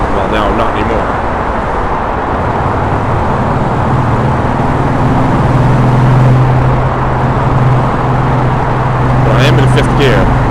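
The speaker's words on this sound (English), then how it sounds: "we're almost at highway speed through the tunnel" A car cruises at near-highway speed through a tunnel, giving a dense, constant roar of road and engine noise with a voice talking over it.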